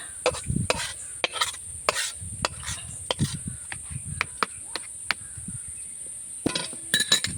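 Taro greens cooked in oil in a pot with hilsa fish head, stirred with frequent sharp metallic scrapes and clinks over a low sizzle, fairly close and with no talk.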